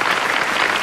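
A burst of canned applause from a soundboard plays loud and dense, a brief continuous clapping roar with no talk over it.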